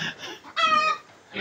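At a piggery, a large pig lets out a short, high squeal between bursts of other grunting and farmyard noise.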